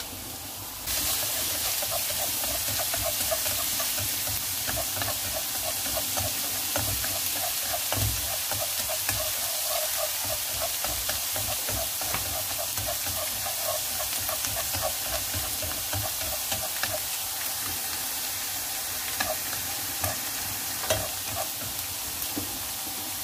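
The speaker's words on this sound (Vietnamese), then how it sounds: "Phi cho vàng cái tỏi này lên." Minced garlic fries in four tablespoons of cooking oil over moderate heat for a homemade chili sauce, giving a steady close sizzle broken by occasional stirring scrapes, with no voices.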